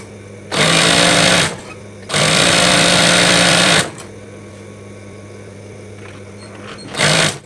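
A sewing machine stitches braided fabric ties for a mukena prayer garment, running in two long loud bursts of rapid whirring with a pause between them and a brief third burst at the end, close up over a low background hum.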